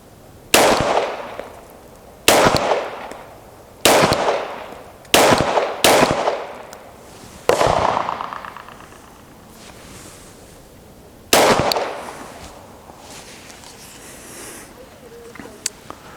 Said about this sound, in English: Just gonna get into this real quick, do some shooting.